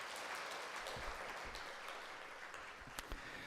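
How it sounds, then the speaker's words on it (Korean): A church congregation at a Sunday service applauds to welcome a new member, a continuous even patter of clapping held at moderate, slightly distant level, with a couple of sharper claps near the end. "환영의 박수로 우리 맞이하도록 합니다."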